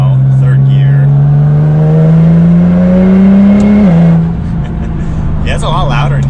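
A Nissan GT-R with an anti-lag tune holds a loud, steady engine and exhaust drone that climbs slowly in pitch, then drops off sharply, heard close from inside the car with a brief voice near the end.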